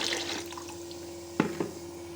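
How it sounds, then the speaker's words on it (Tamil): Rice-washing water is poured into a new clay pot to season it, giving soft watery trickles and two brief louder splashes near the end over a faint steady hum, quiet and close. "நான் அரிசி கழுவின தண்ணி வந்து ஃபுல்லாக ஊற்றி வைக்கிறேன்"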